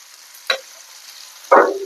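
Greens tempered with fish paste hit hot oil in two sharp bursts of sizzle, a brief crackle followed by a louder, longer hiss that fades, with quiet between them and no talk.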